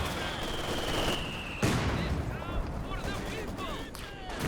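Gunfire and mortar fire in a Company of Heroes 2 battle, a dense, steady crackle of shots with a sharper thump partway through, all at moderate distance beneath commentary.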